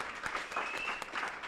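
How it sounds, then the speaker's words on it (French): Brief burst of audience applause at a youth professional training event, a soft, distant wash of clapping over a short moment with faint background tone. "viens Sonia, qu'on applaudit très fort"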